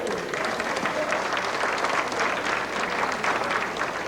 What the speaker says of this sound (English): Let's give us an applause to Pietro Taro Jr.